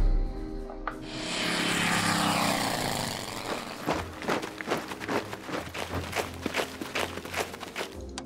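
Propeller plane droning overhead in the strategy game Order of Battle Pacific, a sustained engine roar that swells then gives way to a series of sharp impacts and bursts, fairly close and loud with no talking.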